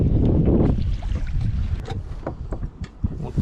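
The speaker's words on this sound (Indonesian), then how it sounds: "Anginnya ngawur, aduh." Strong wind roars over a small fishing boat on rough open sea, buffeting the microphone loudly at first, then easing into gusty rumbles and knocks of the hull.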